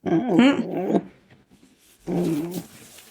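A dog whines and growls in two drawn-out, wavering bursts with a quiet gap between them, close and moderately loud.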